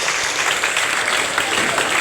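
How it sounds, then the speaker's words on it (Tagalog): Congregation applauding during a church worship service, a steady dense wash of clapping filling the whole stretch at moderate loudness with no break. "palakpak para sa Diyos."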